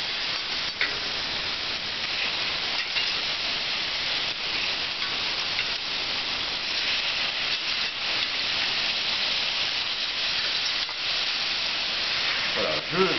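Cherries dropped into sugar caramelizing in a hot pan over lowered heat give a steady, dense sizzle and hiss that runs unbroken throughout, with a brief bubbling flare near the end.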